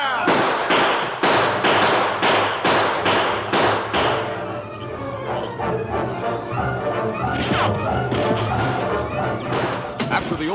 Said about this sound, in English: After the opening volley of gunfire